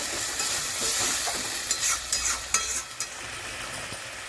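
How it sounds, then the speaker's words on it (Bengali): Chilli garlic prawns stirred with added water in a hot pan, a steady wet sizzling hiss with scraping spatula strokes close by. "এবার ভালো করে মাখিয়ে নেব।"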